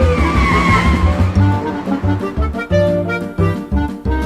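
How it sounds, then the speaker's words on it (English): A toy-scale car drives off amid a loud, busy cartoon soundtrack, with engine revving and tire skids running steadily throughout, with no talking. "He can drive off in my car."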